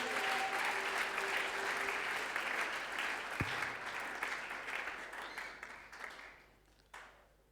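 Sustained applause from a church congregation at a Sunday sermon, dense and steady before gradually thinning and fading out near the end, with a single sharp knock partway through.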